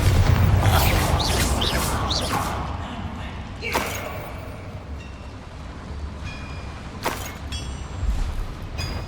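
A Bombarda blasting spell goes off in Hogwarts Legacy, a heavy booming burst with rumbling low-end noise and whooshing debris, followed by a second sharp blast later amid a loud, dense game soundscape.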